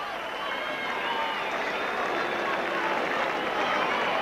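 Crowd at a 1997 Wigan versus Bradford rugby league match at Central Park applauding as a player gets to his feet, a steady, broad wash of clapping and crowd noise under a commentator's voice.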